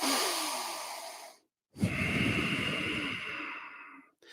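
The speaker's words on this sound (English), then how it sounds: "I drive my breath more like a pranayama breath." A forceful, slow pranayama-style breath, drawn in and then pushed out in long smooth strokes with a short silent pause between, close and breathy.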